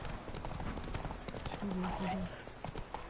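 Hooves of the horse Roach clip-clop in The Witcher 3 video game, soft and rhythmic beneath louder talking voices.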